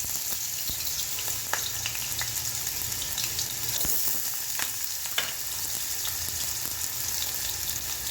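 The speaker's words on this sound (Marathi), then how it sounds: "तेल गरम झाल्यानंतर त्यामध्ये बटाट्याच्या पातळ फोडी करून घेतलेल्या आहेत त्या टाकू तेलामध्ये" Thin potato slices fry in hot oil for a sabudana khichadi, giving a steady, close crackling sizzle with occasional stirring clicks throughout, no voices.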